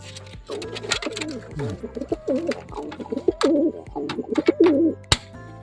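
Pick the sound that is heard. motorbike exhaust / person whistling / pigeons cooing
pigeons cooing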